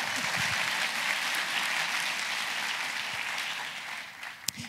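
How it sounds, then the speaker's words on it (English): Steady applause from a crowd at a public salon talk, a continuous wash of clapping that holds for several seconds, with a single sharp louder clap near the end. "Give it a warm round of applause."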